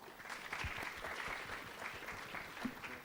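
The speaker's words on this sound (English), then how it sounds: "They deserve a round of applause." Audience at a symposium applauds the judges with a brief, steady round of clapping at moderate distance, no voices over it.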